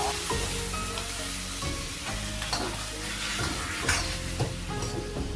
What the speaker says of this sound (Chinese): 加入肉，直接煸炒。